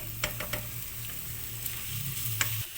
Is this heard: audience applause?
no